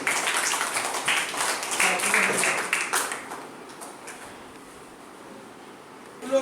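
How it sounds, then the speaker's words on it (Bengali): A classroom of students claps for a fellow student, a few seconds of dense, steady applause that fades out into quiet room tone. "সবাই পূর্বাশার জন্য একটা হাত তালি।"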